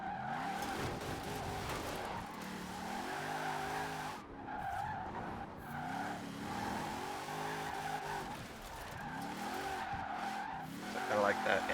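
A car drifting in Forza Horizon 4, with repeated swelling engine revs and sustained tire squeal in waves, loud and close, while a voice talks over it.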